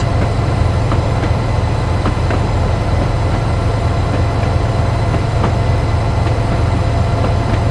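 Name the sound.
Royal Train railtour train rounding a tight bend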